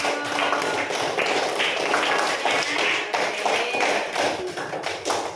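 A classroom of pupils clapping hands together during a school lesson, a loud, close, continuous burst of rapid claps with voices mixed in throughout.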